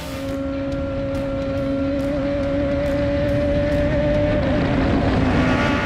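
A race car climbs Pikes Peak during the 2020 hill climb, its engine holding a loud, steady, close drone throughout with a slowly shifting pitch.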